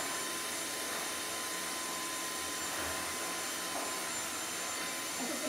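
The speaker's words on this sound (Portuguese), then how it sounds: "que ótimo que o meu pai ligou o aspirador" A household vacuum cleaner runs steadily indoors throughout, a constant broadband whoosh with a faint hum, fairly quiet and without speech over it.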